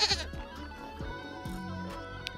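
A goat bleats several times in quick succession, clear and fairly close, with the first cry loudest and later ones softer over a faint background hum.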